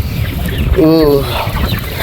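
A 28-day-old chicken in a coop gives a short clucking call over steady background noise and low chatter, close and moderately loud.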